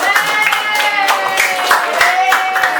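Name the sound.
applause from a class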